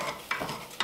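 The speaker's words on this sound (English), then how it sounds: "So you wanna stir it constantly." Dry rice stirred and toasted in a pan with no oil, giving a short soft scraping rustle broken by two sharper scuffing bursts.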